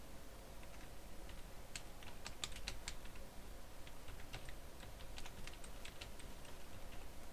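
Login details being typed on a computer keyboard, faint bursts of quick key clicks separated by short pauses over a low background hiss, with no voices.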